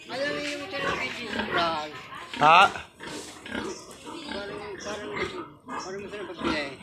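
A sow grunts and oinks on a farm in the Philippines, her low calls mixed in under steady conversation in Filipino, with one brief louder squeal near the middle.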